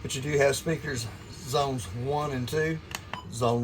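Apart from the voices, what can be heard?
No distinct noise like a dog, phone or traffic.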